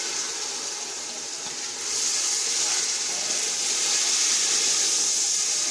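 Water is poured into masala for a vegetable biryani and stirred in, a steady close hiss and splash that grows slightly louder partway through, with no talking.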